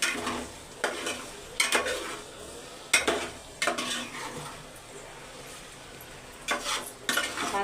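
Chicken fried rice stirred in a frying pan, with a steady sizzle under repeated scraping and clinking strokes of the spatula against the pan, close and fairly loud, no talk.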